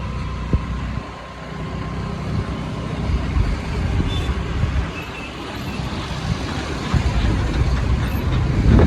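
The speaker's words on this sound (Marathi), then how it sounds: "ट्रॅफिक पण आहे थोडंसं" Steady road traffic rumble heard from inside a moving car slowing for speed breakers, a continuous low engine and tyre roar with occasional thumps and passing vehicles, and a voice briefly speaking.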